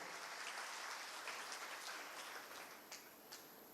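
A church congregation claps together in a broad, dense wash of applause that holds steady, then thins into scattered claps near the end; the sound is faint and distant.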